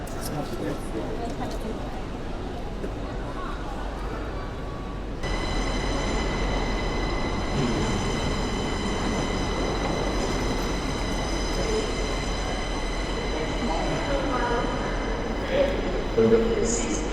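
Train at Newcastle station, a steady rumbling hum of a waiting rail service with a sustained electric whine that starts partway through, heard amid station bustle and faint voices.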